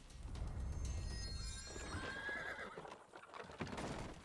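In the Grim Legends video game, a horse whinnies loudly and rises into a long neigh, over a backing of clip-clopping hooves and soft ambient game sound.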